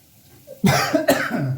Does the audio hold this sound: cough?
yes